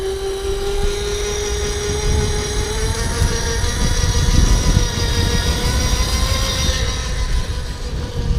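A GoPed ESR750 full-suspension electric kick scooter riding with a continuous loud motor whine rising slightly in pitch over road rumble and wind, no talking.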